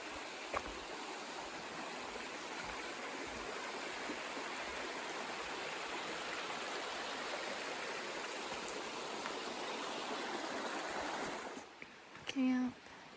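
A creek at a campsite on the Pacific Crest Trail in Washington rushes in a steady, loud wash of flowing water that drops away near the end, leaving a brief quieter moment.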